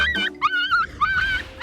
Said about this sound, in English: The puppies have never been handled by humans before, so as a natural instinct, they are crying out for their mother